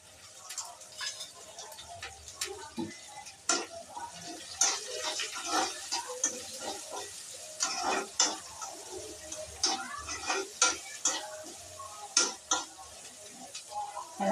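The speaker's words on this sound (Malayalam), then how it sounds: "നമുക്കൊന്ന് ഇളക്കി കൊടുക്കാം." Round bottle gourd curry with curry leaves being stirred in a pan: soft irregular scraping and clinking strokes over a faint sizzle, quiet and close, with no talking.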